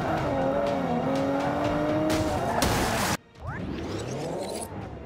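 Race car in Forza Motorsport 5 skidding under hard braking, its tires squealing loudly over a steady engine drone before a sudden cut and a second rising screech of sliding rubber.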